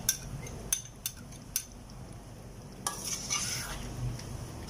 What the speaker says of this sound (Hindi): तो अब हम इसमें दही डाल देंगे